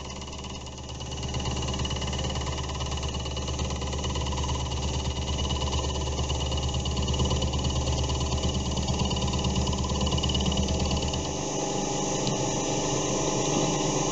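A benchtop milling machine cuts a C45 steel cube at 900 rpm, a loud, steady mechanical drone with a constant vibrating whir that starts after a brief quieter moment and runs unbroken to the end.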